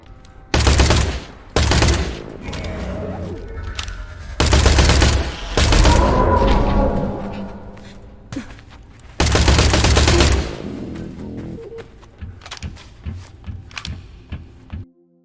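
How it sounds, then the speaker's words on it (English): Rapid bursts of automatic gunfire from the guns of the video game Industria, loud and close, coming in several long volleys separated by short pauses, then tapering into scattered lighter shots. "It is a small assortment of guns that feel great to use."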